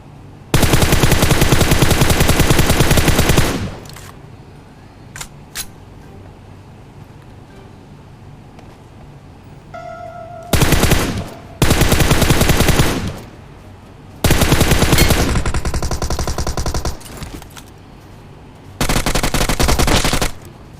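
Loud automatic gunfire in PUBG Mobile comes in several long, sustained bursts separated by quieter pauses, with a few isolated single shots between them.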